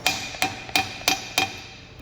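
A hammer strikes a weld on a cast iron table five times in a steady rhythm, each blow a sharp, close metallic clank with a short ringing decay.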